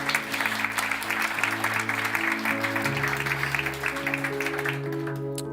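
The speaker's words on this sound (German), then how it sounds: "Gebt ihr doch mal einen Applaus." Church audience clapping for an illustrator during a morning service, a sustained patter of many hands over held organ or keyboard tones, moderately loud and even throughout.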